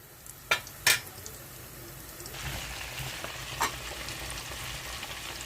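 Batter frying in oil in a wok for festival sweets sizzles steadily at a low level, with a couple of sharp clinks of a utensil early on and a brief louder spatter later.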